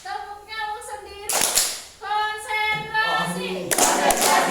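Group hand claps in the Tepuk Nyamuk clapping game in a classroom lesson, sharp bursts of clapping between chanted sung lines from the group, loud and close.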